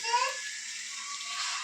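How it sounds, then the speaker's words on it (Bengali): Hot water being poured into a simmering fish curry in a pan, a steady close rushing pour with a brief higher splash at the start, continuous for under two seconds. "এবার গরম জল দিয়ে দিচ্ছি।"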